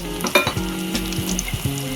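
String beans and longganisa sausage frying in a pan for adobong sitaw, a close steady sizzle with scraping stir strokes.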